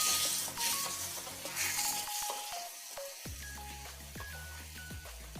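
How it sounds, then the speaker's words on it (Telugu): A spiced tomato onion curry with chili powder and garam masala fries in a pan, a soft sizzle under repeated metallic clinks and scrapes of a spoon against the vessel. "ఇప్పుడు దీన్ని మనం బాగా వేయించుకోవాలండి."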